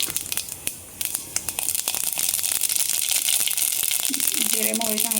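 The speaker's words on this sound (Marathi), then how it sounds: "जिरे मोहरी चांगलं तडतडल्यानंतर मग कांदा टाकून घ्यायचा" Cumin and mustard seeds crackle and spit in hot oil for a khichdi base, a dense run of small sharp pops and crinkles, close and steady, with a faint tonal hum appearing near the end.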